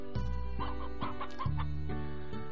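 Chickens in the video game Slime Rancher, a run of short clucks and squawks at moderate level over a steady musical backdrop, with a brief snicker-like sound among them.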